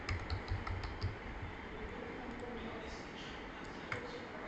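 A few soft, quick keystrokes on a computer keyboard as an amount is entered, clustered in the first second and scattered later over a low, steady background hum, fairly faint and close.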